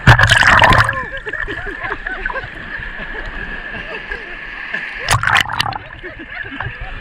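Black Sea waves splash and slosh against a boat hull in a broadband wash, with louder bursts at the start and near five seconds, under a steady engine hum.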